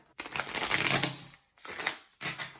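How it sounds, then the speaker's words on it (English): A small, thin, flexible mini tarot deck is shuffled in three bursts: a long riffling flutter, then two shorter ones, crisp and close with brief pauses between. "The mini deck is actually much, much easier to shuffle because the cards are smaller."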